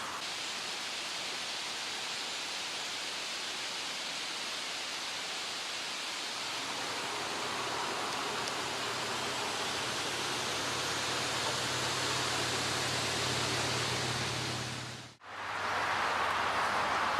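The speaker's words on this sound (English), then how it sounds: "Now you're going to hear a lot of background traffic." A broad, steady hiss of distant road traffic washes on continuously, with a low droning hum building partway through and a brief dropout near the end.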